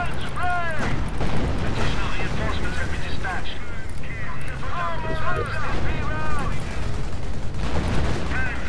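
Artillery fire and explosions from the World War II strategy game Company of Heroes, with a Tiger tank engaged, form a dense, continuous barrage of booms and rumbling blasts, while someone talks over the battle noise throughout.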